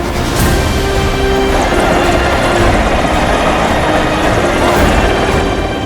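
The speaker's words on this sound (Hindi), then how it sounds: "आकाश की बुलंदियों पर नेताजी के उड़ते हेलीकॉप्टर होंगे" A helicopter flying overhead, its rotor and engine producing a loud, steady, throbbing drone that holds constant from start to finish with no voices.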